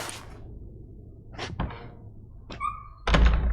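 A door in The Witcher 3 opening: several hollow wooden thunks and knocks in short separate bursts, ending in a louder heavy bump with a low thud.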